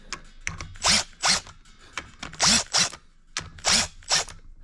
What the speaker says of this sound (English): So you're gonna want to tighten these up kind of in like a star pattern.